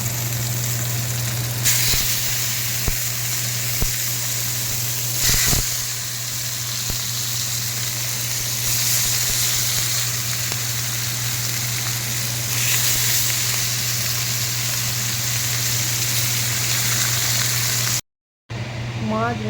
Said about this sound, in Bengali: মাছটাকে নুন হলুদ মাখিয়ে তেলে ভাজতে দিলাম